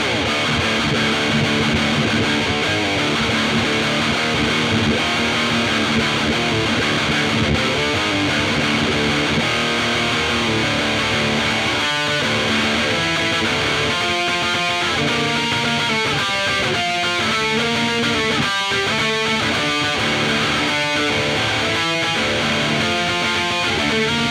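Heavily overdriven electric guitar through an Artist TweedTone20R amplifier fills the whole stretch, sustained distorted chords giving way to choppy, rhythmic strummed stabs, loud and dense throughout.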